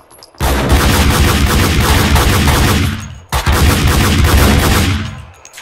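Two long bursts of rapid gunfire in Max Payne 2, loud and dense, separated by a short pause, with no talking.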